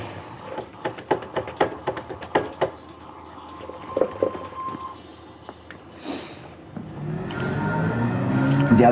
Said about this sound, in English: the turbo sounds on the new Elantra are freaking awesome.